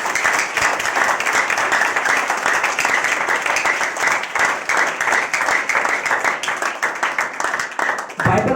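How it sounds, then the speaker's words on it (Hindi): A church congregation claps for God during a Hindi worship service, a loud, dense round of clapping that runs on steadily before cutting off abruptly near the end. "और एक जिंदा ताली परमेश्वर के लिए बजाएं"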